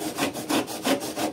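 Hand saw cutting wood while a boat is being demolished; steady back-and-forth rasping strokes, about five close, loud strokes in quick rhythm with no talk.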